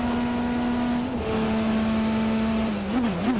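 Race car engines in the video game Forza Motorsport 4 hold a steady high drone, one engine pitch dipping briefly and then wavering near the end, with a second car faintly audible beneath it.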